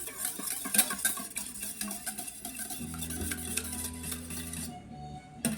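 Sourdough almond caramel biscotti dough gets mixed in a bowl, a utensil scraping and clinking in continuous irregular strokes, close and moderately quiet, with a faint hum underneath.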